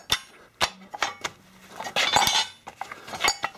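A metal bracket is set onto the bolts of a Nissan Leaf electric motor mount, giving a series of close, sharp metallic clinks and knocks with a brief rattling cluster in the middle, no voices.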